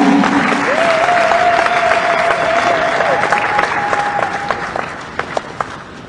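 A church audience claps and cheers at a prize presentation, dense sustained applause with a long held whistle or cry above it, tapering off toward a few last claps.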